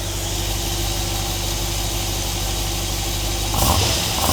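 An Aston Martin Lagonda Vantage engine with eight carburettors idles with a steady, close, rumbling throb, then a brief rise in revs near the end; no one speaks.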